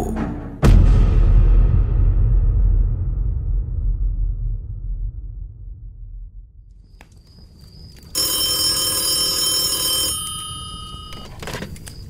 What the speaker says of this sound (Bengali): বলো হকিন্স, কোথা থেকে ফোন করছো?